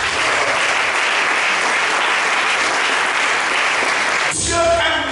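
A church congregation applauds at a Sunday service to acclaim Jesus, with dense, steady clapping filling the room for about four seconds before it gives way to a voice and music.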